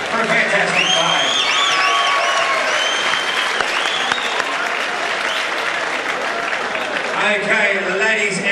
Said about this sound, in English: big round of applause for both fighters for a fantastic fight.